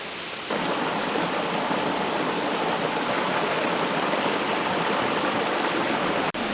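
Steady, loud rush of a waterfall tumbling at close range, a dense continuous roar with no talk, broken only by a brief click near the end.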